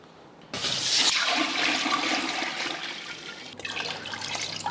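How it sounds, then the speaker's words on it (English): Ten litres of water pours from a jug into a cooking pot in a loud, continuous rushing gush that eases slightly toward the end, with no talking. "And so now we're gonna just pour this into the pot."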